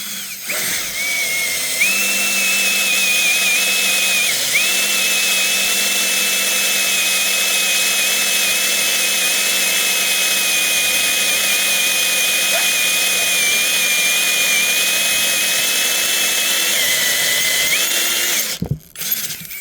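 A power drill whines at a steady high pitch, grinding continuously into a steel rail for a long stretch before stopping abruptly with a clunk.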